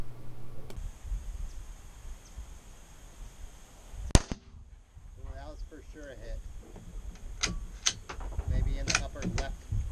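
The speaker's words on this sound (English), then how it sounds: "our test with the Hornady 17 HMR 17 grain V-MAX ammunition" A single sharp report from a Hornady 17 HMR 17 grain V-MAX round fired into ballistics gel cracks loudly at close range, followed by mechanical clicks and handling noises as people talk.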